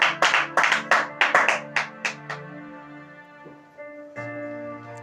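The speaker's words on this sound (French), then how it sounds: "Acclame Jésus" Church congregation clapping in a burst of applause, loud sharp claps crowding together then thinning out over about two seconds, followed by a sustained organ or keyboard tone with no talk.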